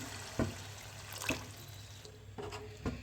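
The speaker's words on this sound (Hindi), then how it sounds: "इसमें मैं कुछ पानी ऐड करूँगी ताकि कीमा जो है वो हमारे अच्छे से कुक हो जाए" Water poured into finely minced beef keema cooking in a pan, giving a short wet splashing and sizzling wash with a few sharp clinks, close and moderately loud.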